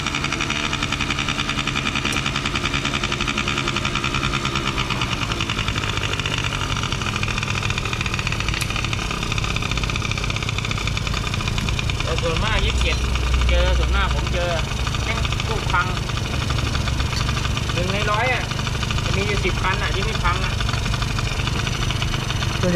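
A Honda Dio AF28/AF25 scooter engine idles steadily and close by, its low chugging hum continuous throughout, with a few brief higher rattles and squeaks partway through.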